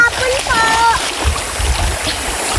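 River water splashing and rushing close by in a steady wash, with voices faintly audible over the flow.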